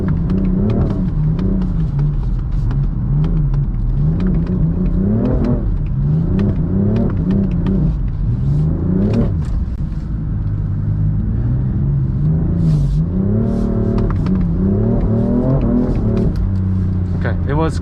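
A BMW M4 is drifted laps around a course in Korea. The engine note climbs and falls in loud, continuous revs, with rising and sagging pitch as the throttle is worked, heard close from inside the car.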